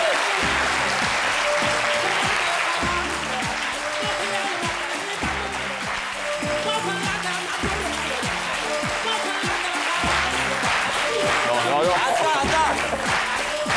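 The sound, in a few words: applause from studio audience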